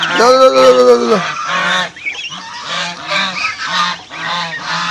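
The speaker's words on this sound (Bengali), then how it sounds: "রাজা হাঁসগুলোকে বের করে দিলাম বাবা মার সাথে" Geese honk as they are let out of their enclosure: a loud nasal call opens the clip, then a run of repeated, close honks follows in uneven bursts.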